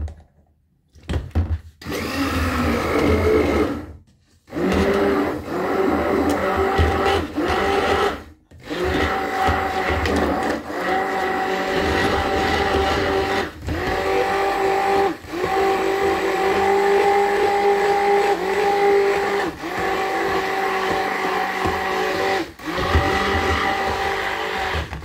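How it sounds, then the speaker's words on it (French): Cooked figs are blended into jam, the blender whirring loud and close in several bursts with short pauses between them, its pitch shifting as the fruit breaks down. "Donc je vais les mixer pour qu'elles deviennent voilà, de la confiture."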